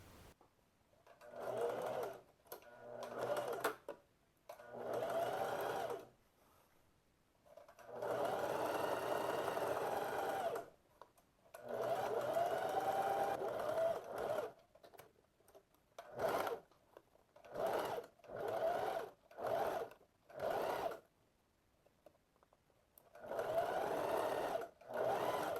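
A sewing machine stitches the side seam of shorts in repeated bursts, each a steady whirring hum lasting a few seconds, separated by short pauses as the fabric is repositioned; close and clear, no talking.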